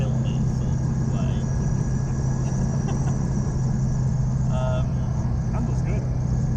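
Old Citroën 2CV engine droning loudly inside the car while driving in France, a steady, buzzy hum with a person talking over it.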